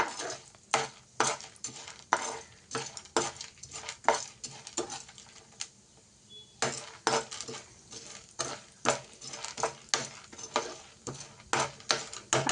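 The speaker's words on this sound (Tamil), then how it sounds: "அதையும் போட்டு லைட்டாக ஒரு நிமிஷம் வறுத்துக்கலாம்." Rhythmic scraping and stirring of roasted gram in a metal pan, regular clattering strokes with a soft sizzle, briefly pausing midway before resuming.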